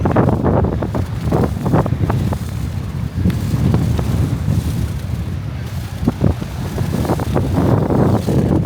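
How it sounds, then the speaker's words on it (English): Wind buffets the microphone steadily while a bike is ridden along Fort Myers Beach, a loud low roar with gusty thumps throughout and no talking. "We're riding into the wind for 6 miles back to our house"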